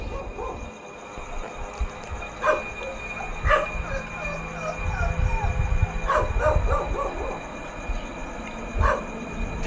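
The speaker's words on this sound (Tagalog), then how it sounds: "tingnan ko sa labas kung ano tinatahol ng aso" A dog barks intermittently outside at night, with short yips and whimper-like calls scattered through steady low background noise; no one speaks.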